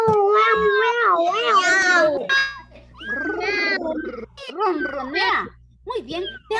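A cat meows repeatedly in drawn-out, wavering cries, loud and close, with short gaps between them and a low hum underneath.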